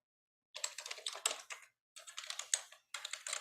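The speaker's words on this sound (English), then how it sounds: "I'm glad it's you typing that one." Someone types on a computer keyboard during a Dallas city committee meeting: three quick bursts of close, crisp keystrokes separated by brief pauses, in an otherwise quiet room.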